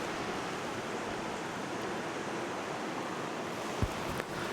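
Heavy rain pours down steadily at Blackpool's North Pier, a dense, constant hiss close by with no voices.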